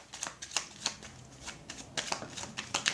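Cards being cut and shuffled in quick riffling bursts, a string of crisp fluttering clicks repeating every fraction of a second, close and fairly quiet, with no talking.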